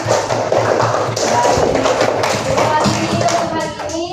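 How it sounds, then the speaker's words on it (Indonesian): A classroom of students claps hands together, a dense, loud patter of overlapping claps mixed with shuffling and thuds, continuing for about four seconds with voices mingling underneath. "Ayo kita tepuk tangan dong kalau happy"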